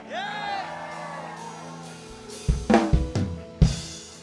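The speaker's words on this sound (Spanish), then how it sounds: "Dale un grito de júbilo." Church congregation at a Spanish-language worship service shouting with joy, a burst of whoops and cheers rising into several loud crowd shouts after a sustained musical tone, close and energetic.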